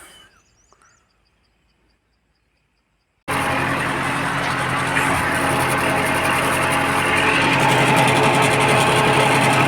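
A modified farm tractor engine revs hard while ploughing raised furrows in a field, a loud, steady roar that bursts in after about three seconds of near silence and holds continuously to the end, slightly building.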